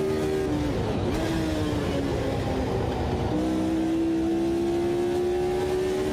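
A Brabham BT44 race car engine in the Automobilista 2 racing game, on the Spa circuit, drones loud and steady throughout, its pitch dipping and then climbing again as the revs change.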